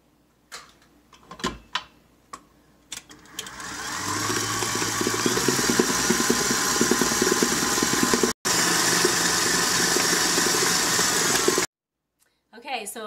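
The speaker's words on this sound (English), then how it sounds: "Never whisked eggs into whipping cream before." Eggs are whisked into whipping cream, a steady, loud whirring drone that runs for about eight seconds with one brief break, preceded by a few sharp clicks and knocks.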